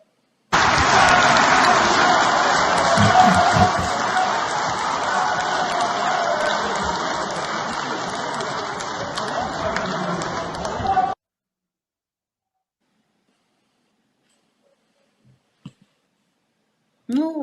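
Sustained applause fills the Ukrainian parliament chamber for minister Denys Maliuska, a dense, steady clatter of many hands lasting about ten seconds before cutting off abruptly into silence.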